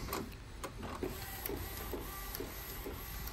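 An Epson L18050 roll-fed printer runs steadily, feeding paper out flat, with a constant mechanical hum and faint periodic clicks from the print carriage throughout.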